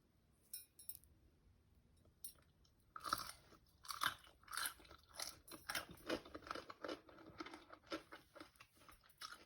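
Close, crisp crunching and chewing of a fried crab rangoon egg roll dipped in sweet and spicy sauce, a few sharp bites followed by steady repeated mastication with faint clinks, no talking.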